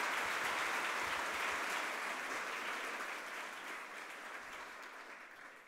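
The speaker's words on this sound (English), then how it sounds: "One last round of applause, please," Sustained applause from a Hall of Fame ceremony audience honoring lacrosse inductee Doug Knight, a dense steady roar of clapping that fades slightly toward the end.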